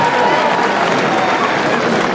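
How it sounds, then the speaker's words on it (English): A large crowd gives loud, sustained applause at a Republic Day 2025 ceremony, honouring an 89-year-old who is the most senior member of a contingent; the clapping is dense and continuous throughout. "please give them a round of loud applause"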